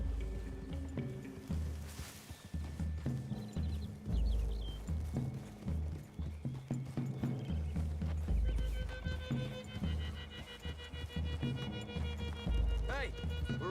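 Horses from Red Dead Redemption 2 clop along at a walking pace with irregular hoof thuds, a neigh or whinny and game music and ambience mixed in, while characters talk over it.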